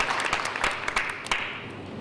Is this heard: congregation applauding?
yes